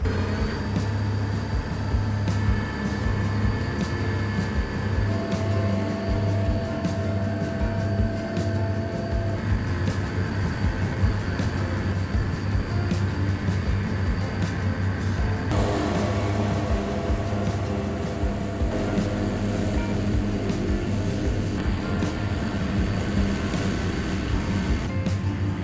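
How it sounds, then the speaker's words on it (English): A John Deere tractor pulls a finish mower across an overgrown hay field, and its engine gives off a continuous low drone with a steady mechanical hum. The sound stays even and unbroken throughout. "You see what a finish mower is doing here."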